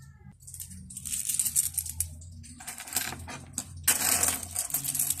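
Coins from an opened piggy bank poured out, rattling and clinking in several bursts of jingling metal, close and fairly loud, with scattered individual coin taps between the pours.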